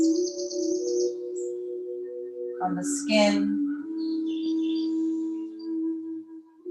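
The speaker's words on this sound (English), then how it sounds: "birds singing." Birds sing outdoors in light, high chirps heard softly in the background under a calm, steady speaking voice.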